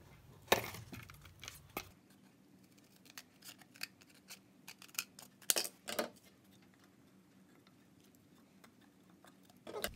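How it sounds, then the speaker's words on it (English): Scissors snipping through a piece of cardboard backing along a measured line for a picture frame candle holder, a series of faint, close, irregular cuts and crunches. "Just cut it right along that line."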